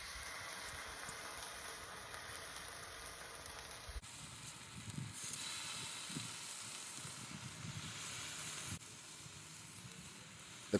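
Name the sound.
bacon sizzling on a Blackstone griddle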